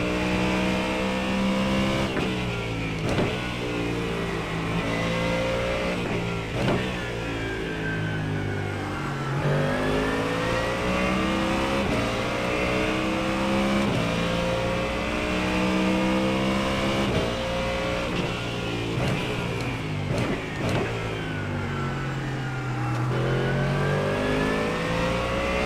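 GT3 race car engines rev and shift continuously around the Nurburgring GP circuit in the iRacing sim, a loud, dense drone of rising and falling engine notes from several cars.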